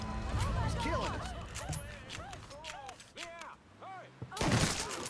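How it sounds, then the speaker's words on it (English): Shotgun blasts and gunfire fill a chaotic Mafia III firefight, with repeated bursts over dense game music and chatter, ending in a loud close blast, while people talk excitedly throughout. "Oh my god, this shotgun."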